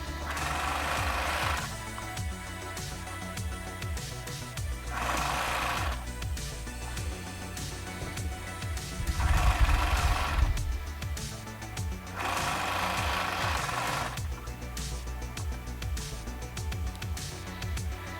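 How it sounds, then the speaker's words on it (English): A sewing machine sews the side seams of a Ukrainian-style maxi dress in repeated short runs, each a second or two long and evenly spaced, over a constant low background hum. "Now fold it like this and sew it from the sides."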